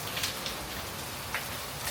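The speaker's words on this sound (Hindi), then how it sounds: "ये देखो बारिश" Heavy monsoon rain pours in Rishikesh, a steady dense hiss of drops beating on surfaces with a few brief louder splashes, close and constant, with no voices.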